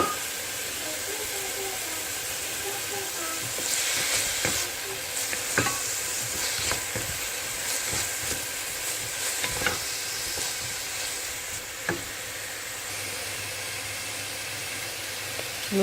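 Celery frying in a pan for a bolognese lasagne sauce, a steady close sizzle and hiss with repeated scrapes and clicks of a spoon stirring through it, no voices.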